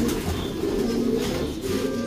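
Pigeons cooing in a breeding loft, low repeated coos overlapping from several birds nearby, steady and close with faint rustling.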